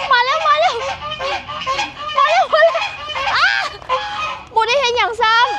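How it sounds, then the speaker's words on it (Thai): Geese honk in a backyard garden, giving loud, close, overlapping nasal calls in bursts that run almost continuously. "บ่อยากกวนห่านหลายแล้วมันจะเครียด"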